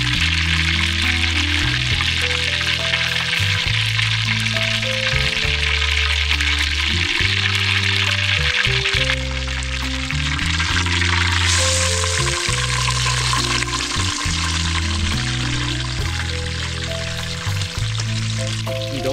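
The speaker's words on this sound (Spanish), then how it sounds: "Mientras vamos friendo el pescado" Fish frying in a pan, a loud steady sizzle that runs without a break, with a low rhythmic background pattern under it and no talking.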